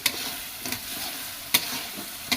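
Local flat beans go into a pan of tengra fish with a steady loud sizzle, and stirring clicks and scrapes break through it, with no voices.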